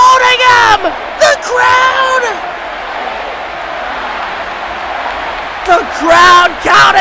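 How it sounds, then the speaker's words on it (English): In the WWE 2K22 wrestling game, an arena crowd chants in loud, unison bursts at the start and again near the end, with a lower murmur of crowd noise filling the lull between. "crowd counting along!"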